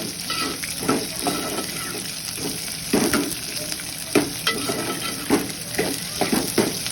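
Onion, green chillies and tomato fry together in a pan for dosa chutney, loud close sizzling broken by repeated scraping stirs in an uneven rhythm, no speech.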